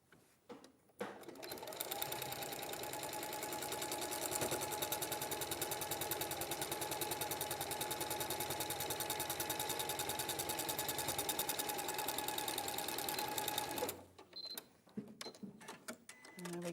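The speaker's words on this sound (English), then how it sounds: "And then we're going to stitch." A domestic sewing machine stitches a quilt block in one steady, continuous run lasting about twelve seconds, its rapid needle rhythm loud and close, with brief handling sounds before and after.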